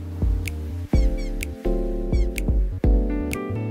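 A cat meows several times in quick succession, close and fairly loud, with drawn-out, wavering cries separated by brief pauses, against an otherwise quiet background.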